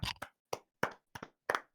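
Six sharp, dry claps in quick, slightly uneven succession, close and crisp, with brief silence between each.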